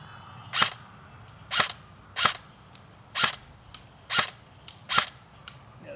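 Airsoft gun firing seven sharp, crisp shots at uneven intervals, close and loud, each a brief snapping crack over a quiet background with no talking.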